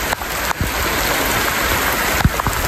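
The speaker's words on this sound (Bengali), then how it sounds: "দেখ ভাই বৃষ্টি কাকে বলে।" Heavy rain pours in a loud, dense, steady hiss close by, with a few sharp drip and splash transients cutting through the wash.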